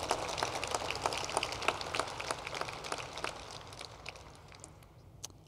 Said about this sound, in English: Let's give each other a round of applause for being here today.